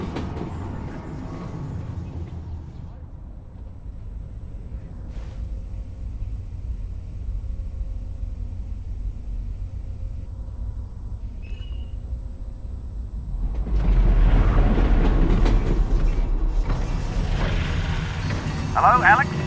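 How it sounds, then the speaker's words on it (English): A train rides along in the Half-Life: Alyx virtual reality game, a low continuous rumble and rattle that holds steady, then swells with a louder burst of mechanical noise before settling, as it comes to a stop. "Did the train stop? It stopped, didn't it?"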